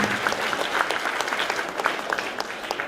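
An audience at a theatre performance applauds the crew and actors, dense continuous clapping that holds steady at a moderate level throughout, with faint voices underneath.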